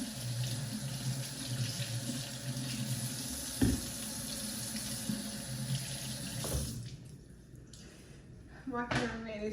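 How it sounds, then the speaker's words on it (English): Food for baby meals being washed under a running kitchen tap, a steady close gush of water into a sink that cuts off near the end, leaving a few drips and handling sounds. "I guess you just wash it off for good measure."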